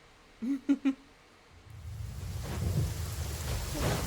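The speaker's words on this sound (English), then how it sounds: "It's lightning." A thunderstorm in the open-world game Genshin Impact, heard as a steady bed of rain with low rumbling thunder that builds after a short burst of speech at the start.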